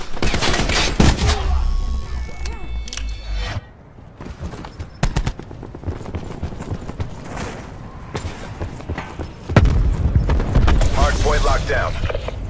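Gunfire in a Call of Duty Black Ops 4 multiplayer match, with bursts of shots and automatic fire that come and go and swell again near the end, mixed with game effects and in-game voice callouts.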